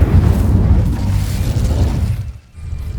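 An Incendio fire spell cast in a Harry Potter video game makes a loud, low roaring burst with a rumbling crackle that fades briefly near the end before swelling again, with no talk.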